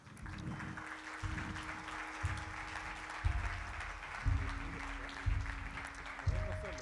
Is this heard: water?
no